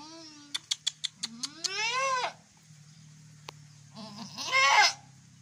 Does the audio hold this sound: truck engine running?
no